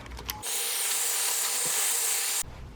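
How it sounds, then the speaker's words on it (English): A hair dryer blows on a freshly painted acrylic layer, a steady close broadband whoosh that switches on abruptly, holds for about two seconds, then cuts off. "So I'm gonna be using my hair dryer."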